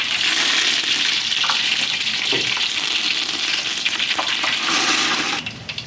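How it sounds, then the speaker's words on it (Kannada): Curry leaves sizzle in hot oil, a steady close hiss with small crackles that holds loud before dropping off at the end, for a potato palya cooked in khanavali style. "ಕರಿಬೇವು ಹಾಕ್ತಾ ಇದ್ದೀನಿ"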